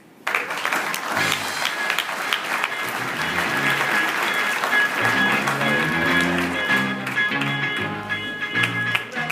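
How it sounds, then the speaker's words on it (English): An audience applauds the companies that just demonstrated at a tech showcase, a loud sustained burst of many hands clapping that swells in quickly and holds, with a faint tonal ring and low murmuring voices beneath. "Applause for all the companies that just demonstrated."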